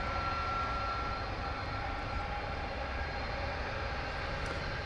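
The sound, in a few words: UPS Airbus A300 aircraft at DFW Airport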